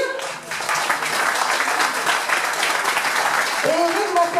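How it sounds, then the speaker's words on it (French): Applause from a crowd at a 2014 race prize-giving in Grémévillers, a dense, steady wash of many hands clapping, loud and continuous, with a voice speaking briefly near the end. "on peut l'applaudir"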